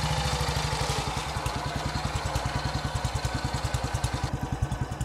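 Single-cylinder engine of a 1940-1943 BSA WM20 motorcycle in desert trim running at a steady idle, with an even, loud, close thumping beat and a light mechanical clatter throughout.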